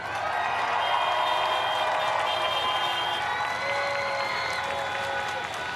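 A large audience applauds and cheers at a US vice presidential victory speech, a steady dense roar of clapping with scattered whoops holding loud and unbroken throughout.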